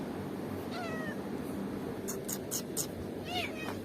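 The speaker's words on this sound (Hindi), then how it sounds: "यार अभी एक और बिल्ली नज़र आई है यार, इसको भी जरा डाल देते हैं।" Cats meow repeatedly at feeding time, with a stray joining in, several rising meows sounding close over a noisy outdoor background.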